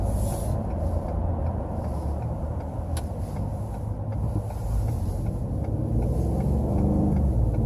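Inside a 2018 Ford Expedition Platinum with an EcoBoost engine, a steady low engine rumble builds under acceleration, filling the cabin with continuous drone.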